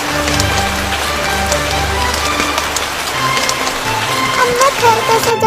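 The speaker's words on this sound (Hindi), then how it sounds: "यहाँ पर तो बहुत तेज बारिश हो रही है" Heavy rain falls with a dense, steady patter over a low droning background, loud and continuous, mixed with scattered tonal sounds.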